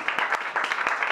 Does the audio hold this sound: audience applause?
yes